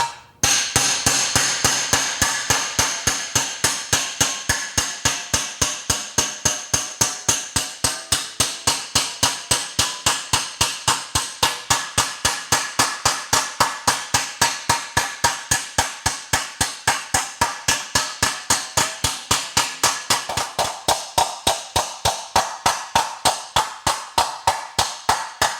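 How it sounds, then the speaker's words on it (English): Slap hammer striking sheet metal backed by a dolly while shaping a gas tank, a fast, steady stream of sharp metallic slaps repeating close and loud for the whole stretch, with no talking. "I'll be working with a slap hammer, just compressing the metal against the dolly."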